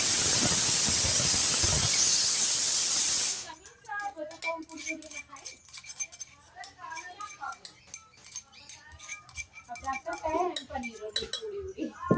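Loud steady sizzling hiss of spices roasting in a hot pan for a chole tadka, then the hiss drops away to quieter clinks of a spoon against the pan.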